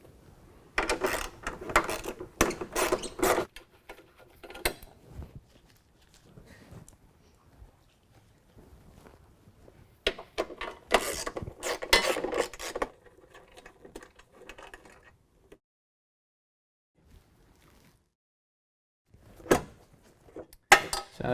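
Four 10mm bolts come out of the front cover of a DEF tank on a 2017 Chevy Silverado 2500 as short, quiet bursts of rapid ratcheting and whirring, arriving in separate clusters with near-silent pauses between them.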